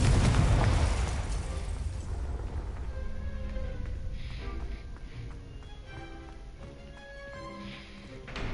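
A Confringo fire-blast spell bursts in Hogwarts Legacy. A loud, booming explosion opens the clip, then a rumbling tail fades under scattered game effects and crackles.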